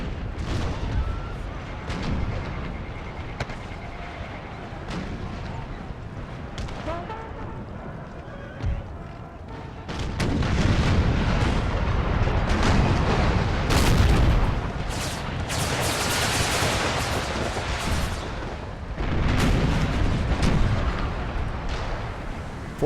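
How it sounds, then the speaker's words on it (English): Cannon artillery booms through a Civil War video game battle at the First Battle of Bull Run, with repeated heavy blasts and crackling gunfire that grow denser and louder in the second half, amid horse sounds. "Oh, those cannonballs are hitting so hard right now."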